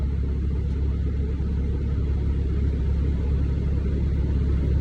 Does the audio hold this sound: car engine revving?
yes